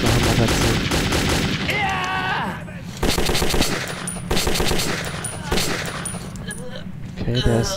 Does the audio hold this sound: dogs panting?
no